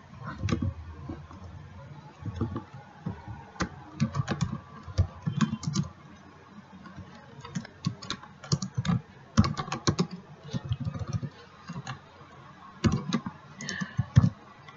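Keys clatter on a computer keyboard while entering text into an MS Access database form, the quiet, irregular clicks coming in quick bursts with short pauses, mixed with occasional mouse clicks.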